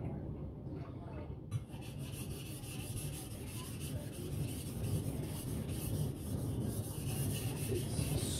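A custom Chinese cleaver of 52100 steel is sharpened with a steady, continuous rasping rub on a stone, close and fairly loud throughout, without talk.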